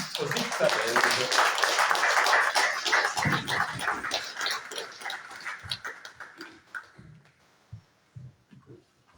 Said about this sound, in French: Sous vos acclamations, nous accueillons M. André Flao, ministre d'État belge.